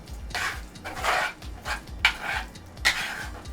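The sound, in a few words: stirring cheese into beans in a pot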